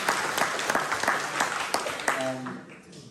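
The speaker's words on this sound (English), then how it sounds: "If we can give Claire another round of applause" Applause at a community meeting in a church hall about a bike path, a steady spatter of clapping that tapers off near the end, with a voice speaking briefly over it.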